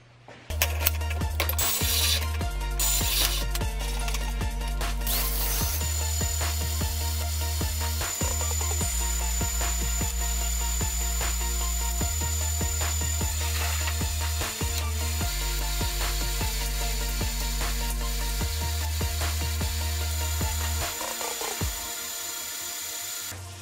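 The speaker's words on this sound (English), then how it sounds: "let's cut a couple pieces of the angle iron" Power tool cutting steel angle iron for a transmission crossmember in a garage shop: a steady loud grinding whine with a persistent high tone, shifting pitch in blocks as the cut progresses, running continuously for over twenty seconds before stopping.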